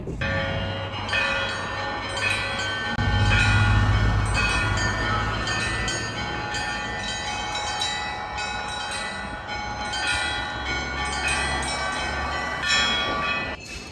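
Moscow metro train at Slaviansky Boulevard station, a steady loud rumble of the cars moving off with a swelling low roar around the start, metallic ringing tones and squeals running through, no talking.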